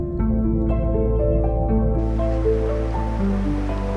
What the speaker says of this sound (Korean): 파도 속에 섞여 있는 거대한 함성과